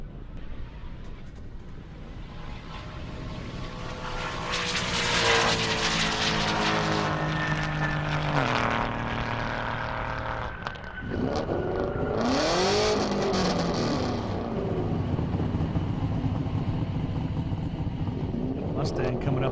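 An Aston Martin and a Mazda RX-7 drag racing side by side on a half-mile airport airstrip, loud engines roaring and rising through gear changes close by, with a commentator talking over the noise.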